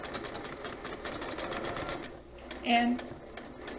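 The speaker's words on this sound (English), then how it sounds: "I'm going to sew on the folded edge" A sewing machine stitches along the folded edge of a flat felled seam with a fast, steady mechanical whir that slows and stops near the end while a voice speaks briefly.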